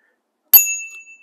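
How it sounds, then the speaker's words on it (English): A cheap bicycle bell on a Himiway e-bike gives a single bright ding that rings out and fades over about half a second, close and alone in silence. "kind of a cheap bell, but hey, a bell is a bell"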